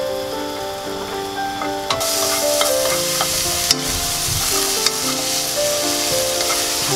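Onions frying in a pan for a Korean royal tteokbokki, a loud continuous sizzle close by with a few sharp crackles and a background music bed.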